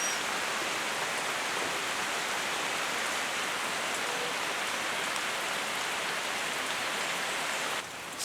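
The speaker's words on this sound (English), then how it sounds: "So it is raining again." Rain falls steadily on surfaces in the Amazon, a dense, even hiss of drops that holds at one level and fades slightly at the very end.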